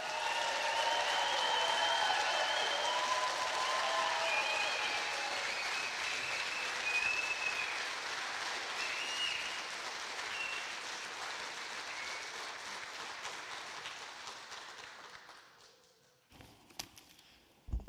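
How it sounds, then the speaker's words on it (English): A commencement audience applauds the graduating class of 2026 at a community college ceremony, with dense, steady clapping that holds for about fifteen seconds before thinning out and fading to a few scattered claps. "Let's give them another round of applause."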